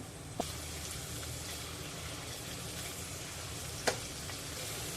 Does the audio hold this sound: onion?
yes